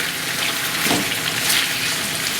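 Cucumber and tomato pieces simmer in a pan for a cucumber chutney, giving a steady, close, even bubbling sizzle without any talk.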